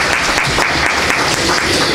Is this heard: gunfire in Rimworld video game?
no